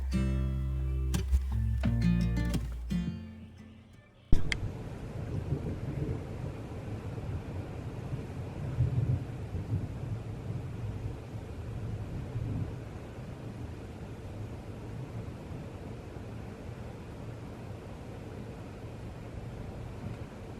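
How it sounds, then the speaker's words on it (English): A crazy storm rumbles on with a broad, steady low roar of wind and thunder after a short stretch of music that cuts off, heard from indoors at moderate level with no talking. "It's a crazy storm."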